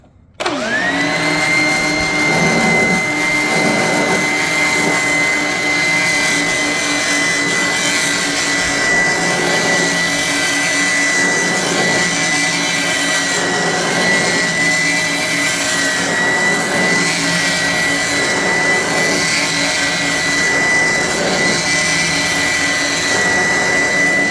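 Eureka Bravo upright vacuum cleaner switching on and then running with a loud, steady whine and hum that holds for the rest of the clip.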